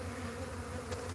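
Bees swarm around the site of a hive that has been removed, giving a dense, continuous buzzing hum that stays close and steady throughout, with no talking.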